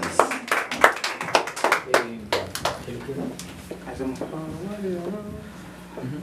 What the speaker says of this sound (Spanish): A ver si el aplauso para ustedes.